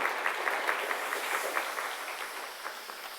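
A church congregation gives a round of encouraging applause during a Korean devotional worship service, a moderate, steady patter of many hands with a few sharper claps standing out, slowly easing off.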